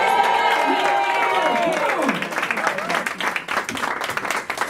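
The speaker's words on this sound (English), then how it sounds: "Give him a round of applause." Studio audience applauds and cheers for a rapper, opening with loud whoops and shouting that give way to a dense, steady patter of clapping throughout.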